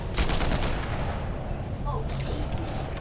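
Gunfire bursts in the video game Fortnite, loud rapid shots early on then further volleys later, with a player's voice talking over the action.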